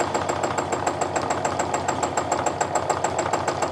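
A sewing machine quilts a holly design, its needle hammering in a fast, even rhythmic chatter, loud and close, running continuously with no talk.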